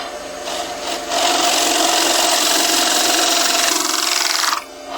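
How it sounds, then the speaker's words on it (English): A large scraper takes light cuts on a turned wooden bowl, a loud steady rasping hiss that starts after a second and runs for about three and a half seconds before stopping. "using the scraper in here and taking really light passes and cutting that scraper just a little bit"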